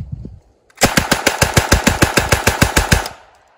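An M3 grease gun fires full auto with .45 ammunition: one loud, close burst of about fifteen rapid, evenly spaced shots, with a short quiet gap before it.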